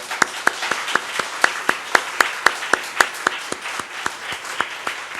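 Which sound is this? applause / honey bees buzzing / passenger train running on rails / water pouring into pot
applause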